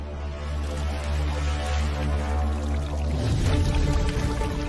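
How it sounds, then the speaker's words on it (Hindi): Water flowing steadily from an overfilled bathtub and spilling out under a closed bathroom door, a continuous pouring rush that grows louder and rougher toward the end, heard alone with no talk. "सिर्फ पानी तो बह रहा है"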